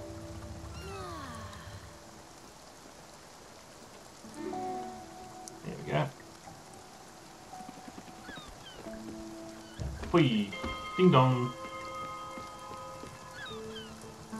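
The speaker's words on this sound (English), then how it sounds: "Has the rain stopped? No, continuous rain." Steady rain patters on surfaces in the game Spiritfarer, a soft continuous hiss beneath game music tones and a short spoken phrase.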